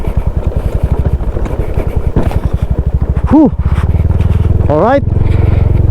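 Motorcycles climbing a steep trail near a Tarlac campsite, their engines chugging close and loud, then revving hard twice with sharp rising pitch sweeps; a voice speaks briefly.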